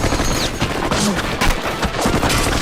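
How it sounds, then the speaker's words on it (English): Rapid gunfire from the opening cinematic of the Dawn of War video game, a dense continuous barrage of shots with booming low end and no voices. "They shoot at him and the bullets"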